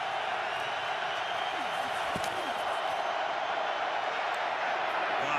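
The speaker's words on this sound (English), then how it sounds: "Mack wants the crowd at full throat. They comply." A dense, continuous stadium crowd roars at full volume throughout a Rams vs Bears NFL football game in Chicago, a steady broad wash of cheering and yelling with no letup.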